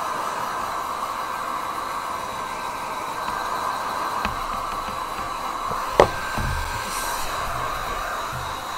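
A hair dryer blowing over wet watercolour paper while painting a loose wet-into-wet blue poppy, a steady whooshing hum with a brief knock and a few faint taps partway through, no speech.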